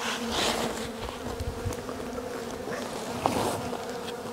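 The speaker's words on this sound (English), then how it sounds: "I got a lot of bees out here" Honey bees buzz densely and continuously around a hive in an apiary, a close swarm droning with a few passing individuals louder than the rest.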